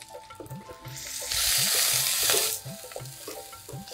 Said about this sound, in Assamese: পিঁয়াজখিনি অলপ সময় ভাজি ল'ম।